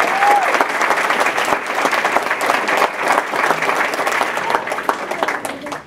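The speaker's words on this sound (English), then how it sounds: "let's just give them all a big round of applause" A school board meeting audience gives a sustained, loud round of applause for honored students of the year, dense steady clapping filling the room throughout.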